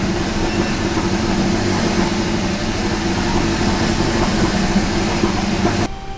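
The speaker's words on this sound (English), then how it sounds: "It's actually gone back to how it used to be. Just a little bit rough on idle." A Kia Ceed GT engine idles a little rough, giving a steady, loud, dense rumble that runs without break and then drops off sharply near the end.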